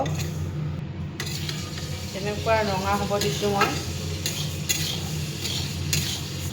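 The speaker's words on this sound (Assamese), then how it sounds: "এতিয়া মই দালিখিনি ভাজি ল'ম।" Moong dal fries in a pan and is stirred, a steady close sizzle under repeated scraping strokes of a spoon against the metal, with someone speaking briefly over it.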